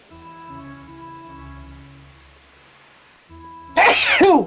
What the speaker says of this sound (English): That is the absolute worst time for a sneeze to come up on me.